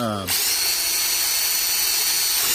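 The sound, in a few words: power drill drilling through a brass plug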